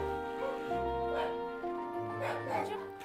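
A cloned Yakutian hunting laika, an aboriginal hunting dog breed cloned in South Korea, gives several yips and barks over steady tonal background sound, with the barks clustered in bursts across a few seconds.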